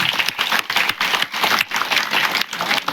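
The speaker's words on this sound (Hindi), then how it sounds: "उत्साहवर्धक बनाने के लिए एक बार जोरदार तालियां" An audience at an annual general meeting in Bageshwar claps in a loud, uneven burst of hands, with individual claps pulsing through a brief, rhythmic round of applause.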